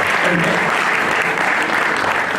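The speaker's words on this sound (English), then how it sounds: "Huge round of applause." Sustained applause from a crowd at a college startup summit, an even, dense wall of clapping at steady loudness with no pauses.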